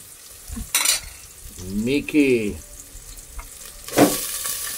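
Food is sautéed in a home kitchen pan, bursts of sizzling and frying rising as ingredients are stirred, with scraping and a few clatters between quieter moments.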